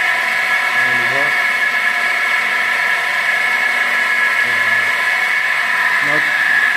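A motor-driven shaft spins steadily on a critical speed test rig in a design lab, giving a continuous high whine and hum throughout, with faint low tonal voices underneath.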